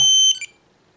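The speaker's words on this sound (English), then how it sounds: "now I got an alarm." Alarm on a Spektrum DX8 radio transmitter set up for a helicopter, sounding as throttle hold is switched on: a loud, close, shrill electronic beep followed by a shorter second tone, then silence.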